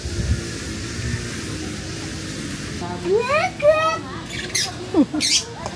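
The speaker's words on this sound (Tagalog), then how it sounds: "Ah, may parrot." A parrot at a campsite gives a few short, rising squawks and chirps in quick succession, near and moderately loud, over low background murmur and outdoor noise.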